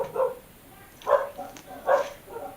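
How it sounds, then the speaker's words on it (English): Dogs barking indoors, three separate bursts of barks spaced about a second apart, moderately close, with no talk over them. "sorry, the dogs are barking"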